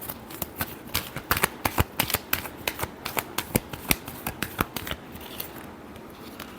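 Tarot cards shuffled by hand close up, a quick run of crisp riffling snaps and flicks in an irregular rhythm, with no voices.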